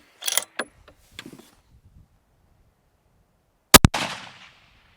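Two sharp reports from a budget long-range rifle fired at a 10-inch steel target, the first pair early and a louder double crack later with a ringing decay, separated by near silence.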